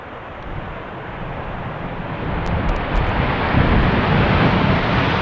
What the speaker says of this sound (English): Nice speed landing from the KLM 737, hardly reducing the speed at all.